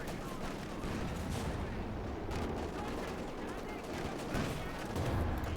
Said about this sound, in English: Good shot there, right through the Panther's front armor